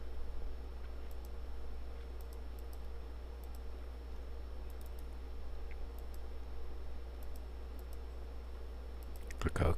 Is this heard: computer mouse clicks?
yes